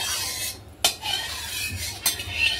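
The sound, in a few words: spatula spreading oil around a wok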